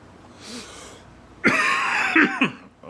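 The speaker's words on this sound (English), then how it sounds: "sorry, had a cough there." A single harsh cough bursts out close to the mic after a quiet moment, followed by a brief rasping trail.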